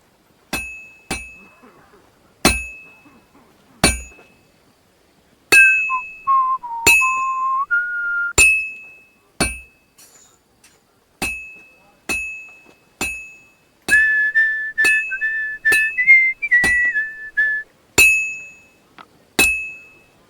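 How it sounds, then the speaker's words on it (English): A blacksmith's hammer strikes metal at a forge in Kingdom Come: Deliverance II, with sharp ringing clangs at a steady, unhurried rhythm, each decaying quickly. A whistled tune plays between some of the blows. "I have to hammer it more evenly"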